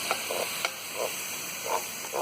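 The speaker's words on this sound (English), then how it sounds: "add some pepper, and just keep that stirred." Soft, repeated stirring scrapes in a pan of creamy chicken with pepper, several distinct strokes over a faint steady sizzle, close and quiet with no voices.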